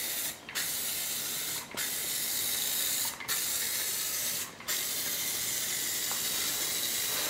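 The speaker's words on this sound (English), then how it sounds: "we're now going to put on the clear coat." Clear coat hisses steadily from a rattle can onto a Corvette during a paint repair, a close, continuous spray broken by four short pauses.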